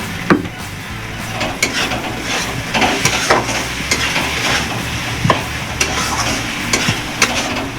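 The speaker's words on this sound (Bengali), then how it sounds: "মশলাটা আমার হয়ে গেছে, ভাজা ভাজা করা হয়ে গেছে।" Spices with turmeric stir-fry in a pan: a continuous sizzle and hiss with repeated scraping strokes of the stirring utensil, loud and close, with no talk.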